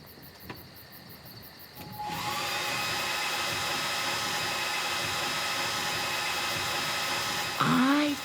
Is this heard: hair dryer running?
yes